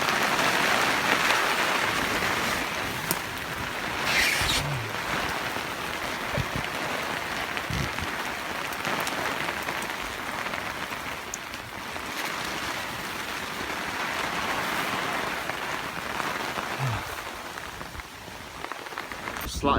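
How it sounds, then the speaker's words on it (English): Heavy rain and gale-force wind at a camp in the woods. The rain drums constantly on tarps and the ground, gusts roar through, and there are occasional knocks and rustles close by. "The rain has started a lot. Gale winds there too."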